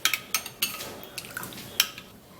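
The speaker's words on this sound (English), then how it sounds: "We're going to stir that all up together and mix the honey plus the carrot juice" A utensil clinks against a bowl while honey and carrot juice are stirred together, a scattering of light, irregular taps and scrapes, close and fairly quiet, with no talking.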